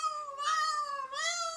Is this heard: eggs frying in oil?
no